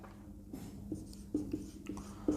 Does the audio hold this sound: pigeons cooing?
no